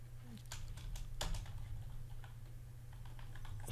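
Typing on a computer keyboard, a few scattered quiet key clicks over a low steady hum, faint and close.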